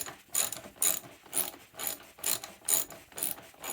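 Ratchet snugging a fastener on a small engine, giving short bursts of crisp clicking in a steady back-and-forth rhythm, about seven strokes, close and fairly quiet.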